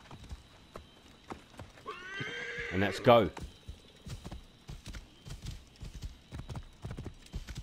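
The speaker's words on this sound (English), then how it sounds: "Let's get the horse." A horse in Assassin's Creed Origins gives one sharp whinny while its hooves clip-clop steadily on the ground, with someone speaking briefly nearby.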